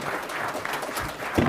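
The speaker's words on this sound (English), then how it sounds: "if we could give our audience, or I'm sorry, our panel a round of applause" Applause from a conference audience for a panel at a government IT sales summit, a steady dense wash of many hands clapping at moderate loudness throughout, with no clear voices.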